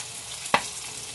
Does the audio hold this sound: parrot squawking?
no